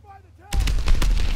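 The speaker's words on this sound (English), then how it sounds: "Enemy mortar fire incoming!" Mortar fire in the World War II shooter Call of Duty: WWII, a sudden loud burst of booming impacts and crackling blasts that breaks in after a moment of quieter game audio and keeps rumbling dense and close to the end.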